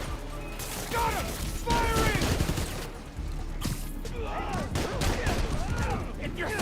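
Bursts of gunfire from Spider-Man: Miles Morales crackle through a busy game battle, mixed with crashes and game characters' shouted voices.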